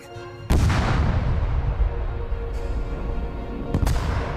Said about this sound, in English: Crews used dynamite, which had only recently been invented, to level the top of the ridge.